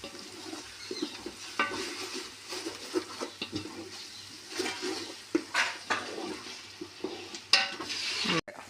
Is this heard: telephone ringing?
no